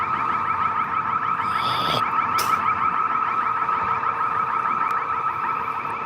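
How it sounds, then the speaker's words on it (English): A building alarm wails steadily at night at the Dwight D. Eisenhower building on a Washington, DC street, a loud pulsing electronic tone that never lets up, with brief passing noises over it. "Alarms are going."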